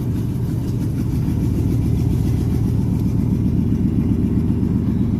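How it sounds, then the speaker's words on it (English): A 1998 Ford Triton truck engine hums steadily while driving down a road, a continuous low rumble that stays loud and even throughout with no talking. "just in the 98 Triton here, going for a little ride down the road and back"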